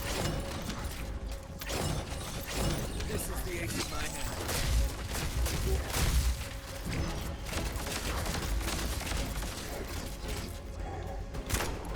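Dense, clattering gunfire in the shooter The First Descendant, bursts of rapid mechanical shots running steadily through the scene with other game effects mixed in and faint voices underneath.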